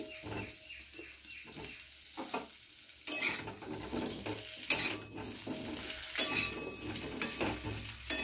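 Pumpkin and potato pieces added to hot oil for Odia dalma, a soft sizzle with clattering spoon and pan knocks, growing busier after a sharp drop-in sound, quiet and close with no voices.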